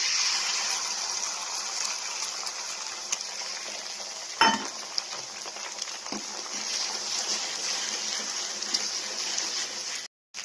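Steady hissing sizzle of rice and egg frying in a pan throughout, with a couple of brief utensil clicks against the pan, then a sudden stop near the end.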